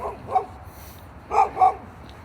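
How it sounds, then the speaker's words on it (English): A couple of dogs bark in short bursts outdoors beside a bridleway near houses, with two or three separate barks at moderate distance against a quiet background. "a couple of dogs coming to say hello."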